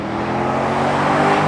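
A C5 Corvette V8 sports car with manual transmission driving, a loud steady engine drone and road roar heard from inside the cabin, with no talking.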